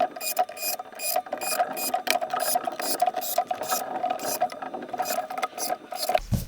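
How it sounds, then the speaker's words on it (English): Screws being driven into the wooden playing surface of a snare cajon, repeated rasping bursts of a driver with a steady whine, close and fairly loud, with no talk. "I'm gonna go for it and add the final screws to the playing surface"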